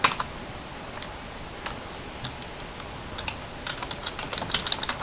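A computer keyboard is typed on in light, close, irregular clicks, sparse at first and then quickening into a denser run of keystrokes near the end, with no voices.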